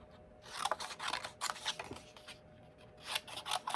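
A Flowers and Leaves paper punch cuts shapes from paper in a series of sharp, crisp snaps and crunches, several punches spaced irregularly with quiet pauses between, close and clear with no talking.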